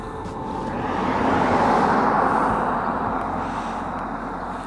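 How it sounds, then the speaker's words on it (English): A car approaches from behind on a road by Lake Mugra, its tyre and engine roar swelling to a peak and then fading as it passes, with no talk during it. "Oh, there's a car coming now, behind me."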